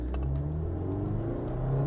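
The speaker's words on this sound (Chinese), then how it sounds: "挂上档，放下手刹，然后踩油门" Toyota 86 sports car with a six-speed automatic pulling away from a stop, its engine droning steadily and rising in pitch as it revs under throttle, heard close from inside the cabin with no talking.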